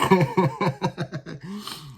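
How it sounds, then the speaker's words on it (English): A run of rapid, harsh coughs close by, about eight bursts in quick succession, ending in a longer, rougher throat-clearing hack. "Couldn't stop coughing."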